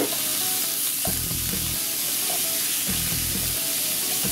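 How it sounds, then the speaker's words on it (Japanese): Minced meat stir-fries in a pan over medium heat with a steady loud sizzle and hiss, broken by a few soft scraping stirs from a utensil, with no voices. "まず 肉を炒めます。"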